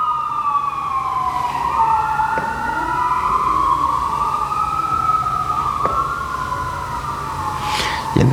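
Ambulance siren wailing in long rising and falling sweeps, fairly close and clear over faint traffic rumble, with no speech.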